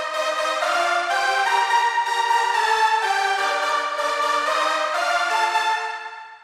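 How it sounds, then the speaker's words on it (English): A sustained string synth layer from a song remake plays a bright, chord-like part alone, steady and loud, fading at the very end. "I can definitely hear a synth on top. I mean a string synth on top."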